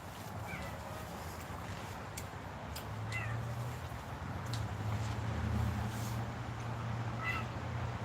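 A cat meows a few times, faint and somewhat distant, over a steady outdoor rumble with a low hum in the background.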